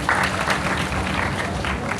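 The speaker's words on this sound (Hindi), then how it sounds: "जरा अपने लिए तालियां बजाएंगे आप लोग" A class of students clapping for themselves during a programming lesson, a brief burst of mixed hand claps and crowd noise that stays busy and fairly loud throughout.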